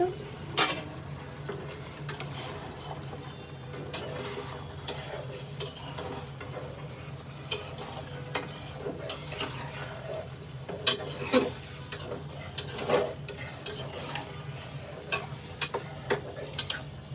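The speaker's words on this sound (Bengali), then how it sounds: "আমার মাংসটা লাড়া দিয়ে দিই।" Meat with turmeric frying in a pot while being stirred, a low continuous sizzle with steady scraping of a utensil against metal and occasional clinks, moderately close and without speech.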